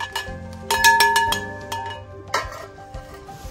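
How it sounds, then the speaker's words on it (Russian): A small souvenir bell from a shop in Tyrol gives a few bright metallic rings and clinks that decay quickly, followed by lighter handling taps, close by with no talking. "Вот такой колокольчик."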